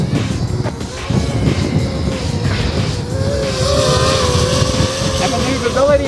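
An FPV cinelifter drone (KD 7) flies at about a third throttle, its motors making a rising, wavering whine over a rushing wind-like roar with a brief dip near the start. Voices talk over it.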